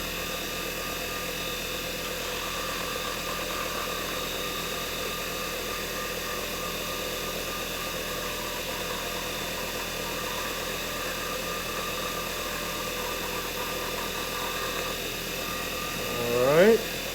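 A spinning machine, likely a lathe, turning at stepped-up RPM while boiled linseed oil is applied, a steady whirring hum with a faint squeak near the end.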